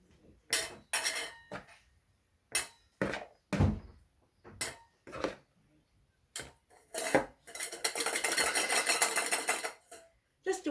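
Minced garlic spooned into canning jars, heard as a string of distinct metal-on-glass clinks and taps with quiet gaps between them, ending in a longer run of scraping and clatter.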